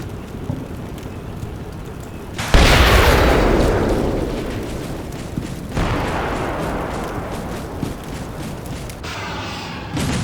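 Artillery shells land in the video game Combat Mission Black Sea: two heavy booms each roll into a long, fading rumble, and a third burst follows near the end, with no talking.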